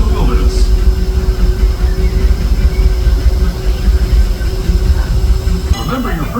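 The Disneyland Railroad train rumbles along with a loud, continuous rolling roar, and a brief squeal of wheels rises near the end as it approaches the station.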